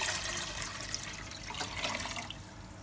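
About 1.5 liters of water is poured into a cooking pot before boiling, making a faint, steady splashing stream with no voices.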